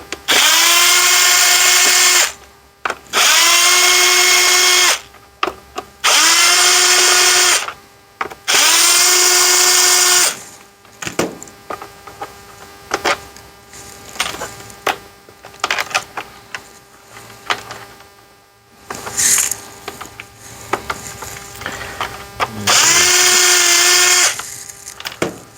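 A power drill backs T15 screws out of a 2009–2012 Ford F-150 instrument cluster. Four loud whining bursts with rising pitch come close together, then quiet clicks and handling, then one more burst near the end.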